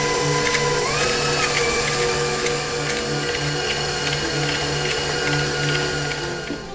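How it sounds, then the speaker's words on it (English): Stand mixer creaming butter with granulated sugar, a steady motorized whir with a constant hum and slight rhythmic churning, close and unbroken throughout. "in my mix master, and I'm creaming that up with some granulated sugar"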